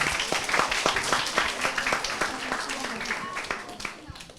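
An audience at a book show-and-tell Q&A applauds with a round of brisk clapping lasting several seconds, while a voice talks over the start.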